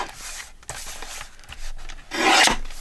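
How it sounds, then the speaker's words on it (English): A paper journaling card for a hinged page insert is trimmed with decorative-edge scissors: a few close, dry rasping cuts, with a louder, longer snipping rasp near the end and no talking. "So let's trim it up and cut some fancy edges."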